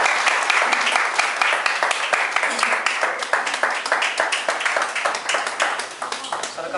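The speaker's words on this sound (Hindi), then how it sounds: "सर का स्वागत कर दो। जोरदार जोरदार तालियां।" Loud, energetic applause from an event audience welcoming a guest onto the stage at a Modicare business meeting, rapid dense clapping with sharp hand strikes, sustained and slowly thinning toward the end.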